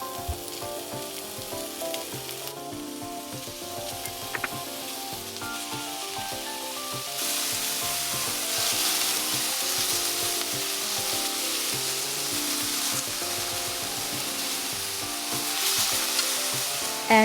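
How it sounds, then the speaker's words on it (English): Meat stir-fried in warm oil in a pot for Japanese nikujaga, a hissing sizzle that grows louder and denser partway through, with a steady musical backdrop. "Stir fry the meat before putting veggies into the pot."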